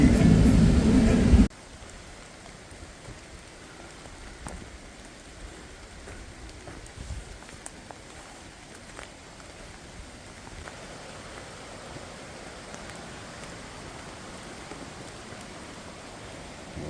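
Steady rain patters all around a young forest, a dense even hiss of drops on foliage, with a brief louder burst of noise at the very start.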